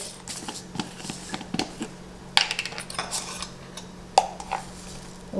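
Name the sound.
mashing taro and yam in a bowl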